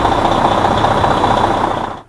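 A fleet vehicle's engine idles at operating temperature with a steady, loud mechanical drone that holds evenly before cutting off abruptly at the end.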